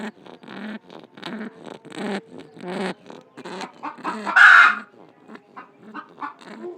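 A pigeon sick with a cold wheezes up close in a repeated series of short raspy breaths, with one louder rough burst midway.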